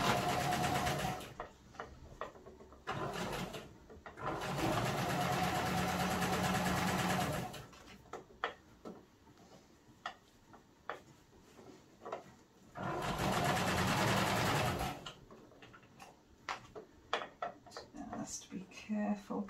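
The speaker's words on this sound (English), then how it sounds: "same seam along the edge of the presser foot or at 3/8 of an inch" A sewing machine stitches a circular seam for a peg bag in two loud bursts of rapid whirring, separated by a gap of fabric handling with clicks and taps while someone speaks.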